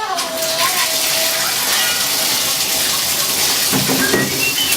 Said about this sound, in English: I'm going to turn on the water and I'm going to bathe him